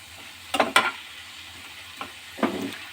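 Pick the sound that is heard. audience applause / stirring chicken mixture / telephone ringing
stirring chicken mixture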